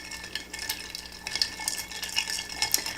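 A Manhattan cocktail with sweet vermouth being stirred over ice, making continuous light clinking and tinkling with a steady rattle of ice against glass, close and unbroken, with no voices.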